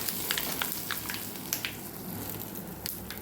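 A hot tempering of mustard seeds, cumin and sesame is poured over dhokla, giving a steady close sizzle with scattered quick pops and crackles throughout.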